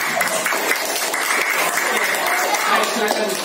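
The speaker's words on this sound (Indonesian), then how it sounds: "Tepuk tangan yang meriah untuk kelompok 1" A classroom of students gives an enthusiastic round of applause for the first group, continuous dense clapping throughout, with faint voices underneath.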